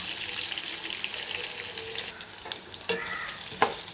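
Onions frying in cold-pressed groundnut oil for a gooseberry chutney give a steady, moderately close sizzle with light stirring and a couple of sharp utensil clinks near the end, no talk.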